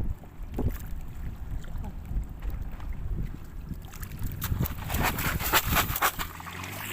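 A boat approaching shore at Laem Sak, Thailand, with water splashing and engine rumble, wind buffeting the microphone, growing louder and busier toward the end.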